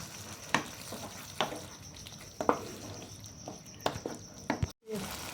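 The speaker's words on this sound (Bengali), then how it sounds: "এটাকে আমি ভালো করে একটু কষিয়ে নেব।" Onions with yogurt and salt frying in a pan, a soft steady sizzle under irregular scrapes and taps of a stirring spoon, ending with a brief pause before the sizzle returns.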